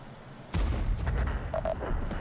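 In a tank battle video game, a tank cannon fires a single loud, sudden boom that rolls into a rumbling decay, followed by fainter in-game tones.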